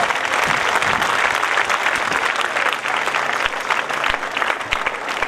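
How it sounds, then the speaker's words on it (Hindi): Audience applause at a 2018 school performance at Sunrise School in Jind, India: sustained dense clapping from a large crowd, steady and continuous throughout with no talking. "तालियों की आवाज।"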